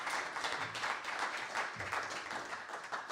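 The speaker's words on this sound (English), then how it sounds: "more applause for Austin." A jazz trio audience applauds the drummer, steady clapping from many hands at moderate distance, a dense unbroken patter lasting the whole moment with no voices on top.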